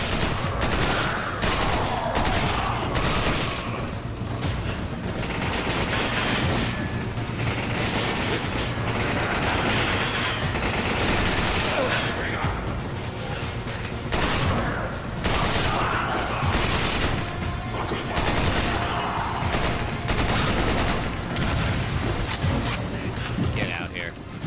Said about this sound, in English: I guess these are assault rifles.